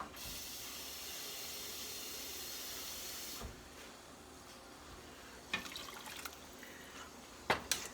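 Water poured into a pot of lentil soup: a steady hissing pour for a few seconds, then a quieter stretch with a couple of splashes and clinks near the end.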